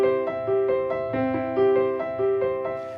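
A piano plays the steady rising broken-chord pattern of Bach's Prelude No. 1 in C, the same figure repeating on each chord, close and clear with no voices.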